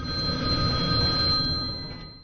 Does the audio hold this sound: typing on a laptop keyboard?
no